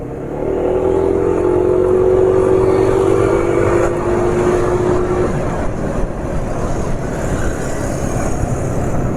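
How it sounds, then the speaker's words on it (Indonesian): A motorcycle running on Eni 20W50 Super JASO MA2 oil accelerates from a slow speed, its engine note rising in a loud, sustained drone that stays close throughout. "Ini nyoba kalau dari pelan terus akselerasi ya."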